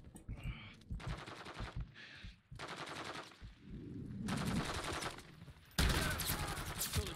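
Bursts of automatic gunfire in the Modern Warfare 3 Highrise campaign mission, several loud sustained volleys separated by short gaps, with a final heavy burst near the end.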